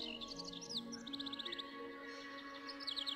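Small birds chirping in the video game Syberia, quick high trills and tweets in short bursts over a steady tonal hum, soft and without voices.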